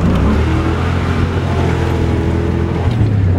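A drifting car's engine roars loudly and close, with a deep rumbling aftermarket muffler exhaust holding a steady high rev throughout, no voices over it.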